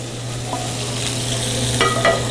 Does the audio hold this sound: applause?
no